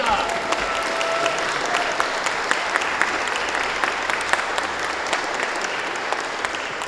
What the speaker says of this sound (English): Ladies and gentlemen, huge round of applause, Bob Lanza.